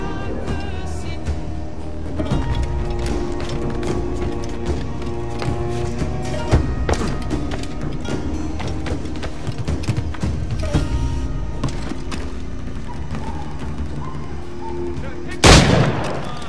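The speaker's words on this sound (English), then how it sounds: "Who's shooting?" Gunfire in the pirate video game Assassin's Creed IV, sharp bursts scattered over a dense bed of game music and ambience, with one louder, closer blast near the end.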